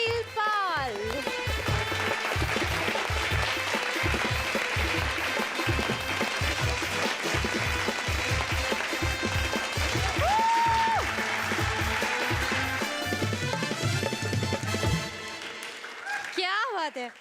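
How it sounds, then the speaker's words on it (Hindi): Loud studio audience applause on a Hindi comedy show, sustained and full over music with a steady beat, fading out near the end. "एक बार जोरदार तालियां हो जाए फॉर प्रताप फौजदार"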